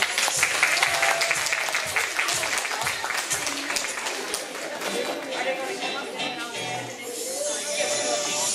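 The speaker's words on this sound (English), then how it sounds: "Let's give Bobby a round of applause." At a bridal party gathering, a crowd applauds with dense, continuous clapping that stays loud and close throughout. Scattered cheers and chatter mix in with it.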